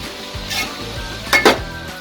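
Onions with a pinch of salt sauté in a pan for chicken fried rice, a soft steady sizzle broken by two sharp metallic clinks of a spoon stirring against the pan.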